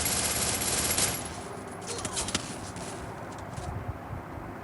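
Rapid automatic gunfire from a weapon in Free Fire, a loud burst in the first second followed by quieter, scattered shots over a steady background.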